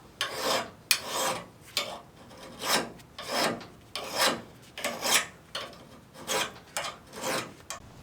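A hand file rasps along the cutting edge of a lawn mower blade from a 2019 Bad Boy Maverick mower, in about a dozen loud, close, rhythmic strokes, each a rough scraping burst followed by a short pause.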